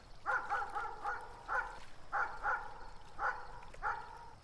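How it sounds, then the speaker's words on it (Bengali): A dog barks repeatedly on a moonless village night, clustered yips and barks in uneven bursts of two or three, moderately close and clear over a quiet background. "আর মাঝে মাঝে কুকুরের ঘেউ ঘেউ ডাক।"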